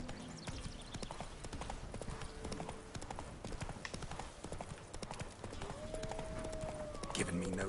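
Horse hooves clip-clop at a steady trotting rhythm in The Witcher 3: Wild Hunt, with game ambience and music around them and a faint whinny or tone near the end.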